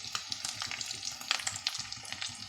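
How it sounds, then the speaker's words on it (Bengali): Ground cumin added to hot oil in a pan, crackling and sizzling close up with uneven spitting pops and the scrape of stirring. "একটু জিরে গুঁড়ো দিয়ে দিলাম"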